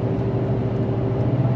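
The engine of a dumpster-business pickup truck drones steadily inside the cab as it downshifts to third gear climbing a hill, holding a constant high-rev hum with no talk.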